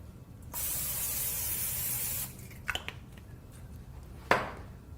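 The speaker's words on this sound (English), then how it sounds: "We're going to spray it with nonstick spray so that the quesadillas don't stick." A steady hiss of nonstick cooking spray on a pan lasting about two seconds, followed by a few light clicks and a short final spray burst.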